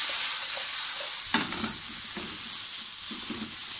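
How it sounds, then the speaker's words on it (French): Vegetables seasoned with pepper cook over medium heat in a pan, a steady close sizzle running throughout with scattered stirring clatters and scrapes, no voices. "je vais cuire ces légumes pendant environ peut-être 8 minutes"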